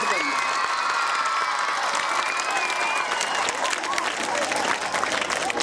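Vigorous, sustained clapping and cheering from a crowd at a school science and cultural expo, dense and close throughout, with voices and occasional whistles over the applause.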